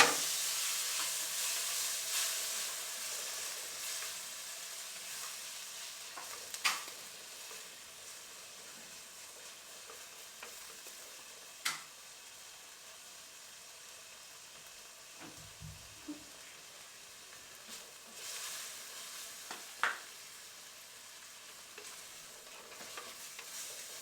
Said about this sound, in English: Then add your tomatoes and onions.